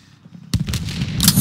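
A signal flare fires with a sharp burst amid a World War II battle in Call of Duty: Vanguard, followed by crackling, booming combat noise that builds and stays loud to the end.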